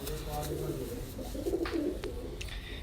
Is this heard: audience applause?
no